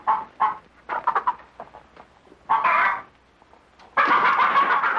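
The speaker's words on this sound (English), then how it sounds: "Well, feed the chickens." Farmyard chickens in a 1952 film scene give a series of short clucks and squawks in uneven bursts, growing to a loud, busy flurry of calls at the end, with no talking.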